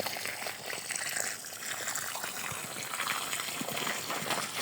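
Water from a garden hose gushing steadily onto tomato rows inside a large greenhouse, a continuous close splashing and trickling with no talk.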